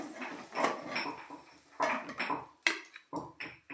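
Fried eggs are set onto a plate with a few clinks and scrapes of utensils against dishes, close and fairly quiet, in short bursts with pauses between them.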